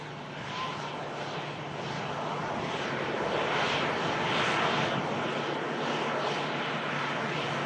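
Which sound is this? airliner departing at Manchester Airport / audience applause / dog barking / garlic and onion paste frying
airliner departing at Manchester Airport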